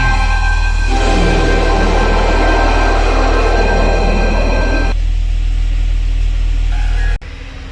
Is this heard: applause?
no